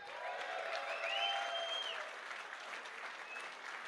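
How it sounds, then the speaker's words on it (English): Applause from the audience at Piranha Games' MechCon 2017 announcement presentation, a steady clapping crowd that holds throughout without any talk. "So a big round of applause for NVIDIA, please."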